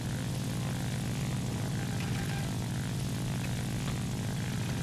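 La-5 fighter plane in War Thunder, its piston engine and propeller giving a steady, even drone that stays constant throughout without pauses or other sounds.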